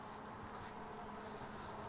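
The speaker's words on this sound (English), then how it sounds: "Bee wants to go home. She's in there somewhere." Bees buzz at a hive being brought home, a faint continuous swarming hum that stays even throughout with no talk.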